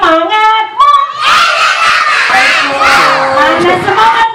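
A school audience of young children and adults shouts back loudly and eagerly at a kindergarten appreciation event, a sustained, near crowd roar of overlapping voices and cheers filling the whole stretch after a brief speaking voice at the start.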